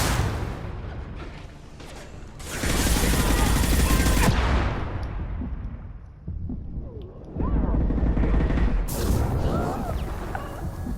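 High-impact shot gunfire in Mass Effect 2, with loud, dense bursts of blasts and crashing debris in two heavy waves separated by a quieter stretch, and a voice talking partway through.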